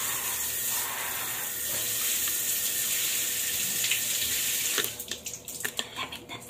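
Cold water runs steadily from a tap in a continuous hissing rush, then is cut off and gives way to a few scattered splashes and drips.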